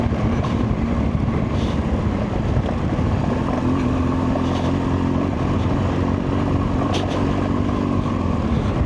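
A motorcycle rides through Spiti Valley, its engine droning steadily with strong wind buffeting, loud and close throughout, with no talking.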